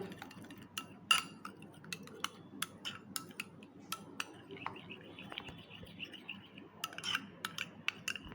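Sour yogurt whisked in a bowl for a steamed egg dish, giving a steady run of light utensil clinks and taps against the bowl, close and fairly quiet, with a couple of brighter clusters near the end.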